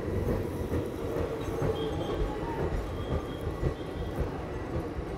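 A train runs along the approach to Bikaner Junction through a congested lane with houses close on both sides, a steady loud rumble of wagons and wheels on rail filling the whole stretch without let-up.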